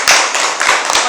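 A classroom of students claps for a classmate who answered well in a Kiswahili lesson, a brief burst of quick, overlapping hand claps close by that comes in a few uneven pulses.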